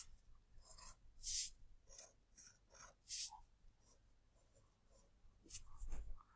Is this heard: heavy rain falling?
no